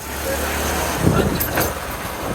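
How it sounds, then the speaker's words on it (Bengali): A car on a road trip, heard from inside as a steady, close engine and road rumble that swells slightly midway, with no speech. "সুমন্দি বাবু ড্রাইভিং করতেছে এখন যাত্রা পথে"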